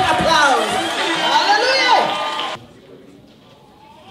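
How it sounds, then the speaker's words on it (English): Crowd at a funeral gathering breaks into loud cheering, whoops and excited shouting with overlapping voices for about two and a half seconds, then cuts off abruptly to quiet room tone. "Give me a big applause."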